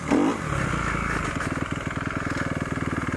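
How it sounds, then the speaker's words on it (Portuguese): A motorcycle engine idles and putters steadily up close, its low rhythmic chugging continuous throughout. "Só dar uma voltinha aqui só pra mim acostumar com a moto de novo."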